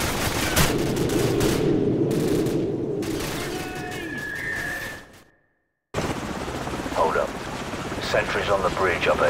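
A helicopter in the video game Call of Duty 4: Modern Warfare drones loudly over bursts of automatic gunfire, then cuts out briefly before the battle noise resumes with voices shouting over it.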